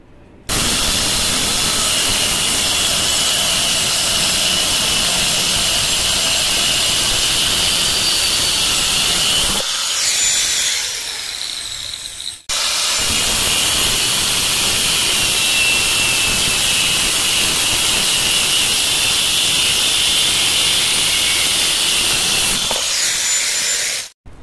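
Power cutter slicing iron strips for a handmade sideburn plane, a loud, steady high-pitched grinding whine held for about ten seconds, a short pause, then another long continuous cut.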